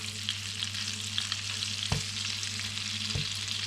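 Prawns fry in a hot pan with a steady, close sizzle, and two brief knocks of stirring or utensil contact cut through the crackle, with no voices.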